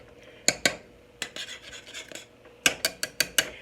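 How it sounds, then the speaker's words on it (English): A spoon clinks and scrapes against a bowl while mixing butter and vanilla into a cream cheese batter for pound cake, in sharp, irregular taps and short stirring strokes, close and otherwise quiet. "Just mix it all in here"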